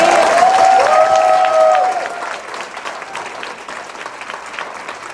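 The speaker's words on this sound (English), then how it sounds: "Can we get a big round of applause for the Alexander Writer Center?" An audience applauds for the Alexander Writer Center at a keynote, clapping loud at first under a briefly held sung or played tone, then thinning and fading to softer scattered claps.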